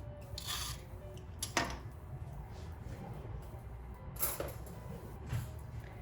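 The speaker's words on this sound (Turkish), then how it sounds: "Tırtıklı tarafıyla bu şekilde üzerini kazıyorum." A zucchini skin scraped with the serrated edge of a corer makes quiet, close rasping strokes, a few sharper scrapes standing out against a soft steady background.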